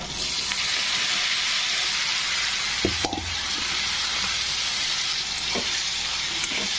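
Chopped ridge gourd mixed with coriander goes into a hot pan for a toor dal dish, making a steady, close sizzle with a brief utensil clunk midway and no speech.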